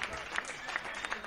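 An audience gives brief applause for a musical director, the clapping faint and distant with talk partly over it.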